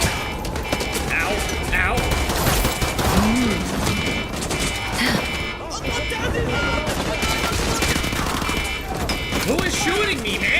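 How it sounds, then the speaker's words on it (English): Continuous Call of Duty gunfire crackles through dense game noise, with repeated shots and bursts layered under ongoing voices and chatter. "There's no way you didn't hear all that fire downstairs."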